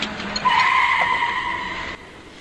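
A silver sedan speeds off and turns sharply after a collision, its tires squealing loudly in a sustained screech for over a second before cutting off abruptly, with engine noise beneath.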